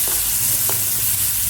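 Onions frying in oil in a pan on a gas stove, a steady close sizzle with soft stirring scrapes running throughout, no talking.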